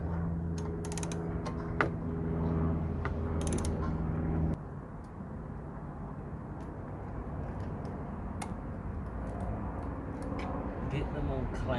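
A ratchet tightens a 10mm bolt during an Alpine SWE-1200 underseat subwoofer install in a Suzuki Swift ZC31S, with scattered sharp clicks over a steady low background hum.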